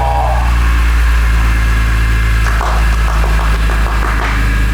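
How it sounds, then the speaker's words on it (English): A BMW E46 M3 Touring engine runs loud and close just after a cold start. It holds a steady, throaty idle with a few light revs partway through, and a voice is barely heard beneath it. "Should we just do a little cold start?"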